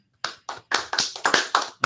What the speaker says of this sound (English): the unenthusiastic golf clap